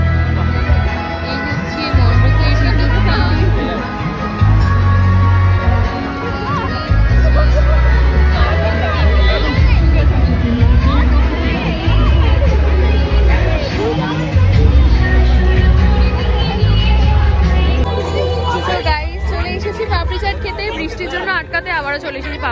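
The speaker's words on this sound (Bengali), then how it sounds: "সবাই দাঁড়িয়ে পুরো ভিড় করে ফেলেছে বৃষ্টির জন্য" A crowd packed under a festival pandal during Ram Navami and Basanti Puja, sheltering from rain, fills the air with steady loud chatter and murmuring voices, a close talker heard over the babble.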